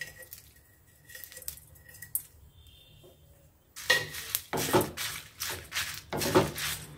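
Black pepper and coriander seeds dry-roasting in a pan for Udupi-style rasam powder: a near-silent start, then loud rattling, scraping stirs in rhythmic bursts for the last few seconds.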